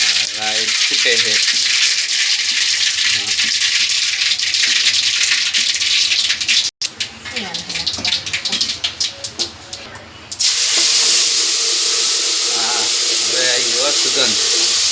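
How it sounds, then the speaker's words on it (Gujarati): Mustard seeds pop and crackle in hot oil while tempering for homemade methi dhokla. A loud, steady hiss and spatter runs throughout, broken midway by a few seconds of voice-like sounds before the sizzle returns. "राई ફૂટે છે।"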